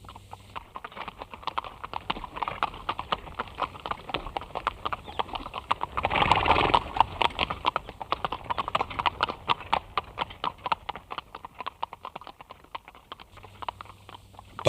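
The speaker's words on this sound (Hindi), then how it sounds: "फिर घोड़े पर सवार होकर 10-15 घुड़सवारों के साथ कालपी की तरफ सरपट बढ़ चली।" Horses gallop as a radio play sound effect, with a steady rapid clip-clop of hooves running throughout that swells louder midway.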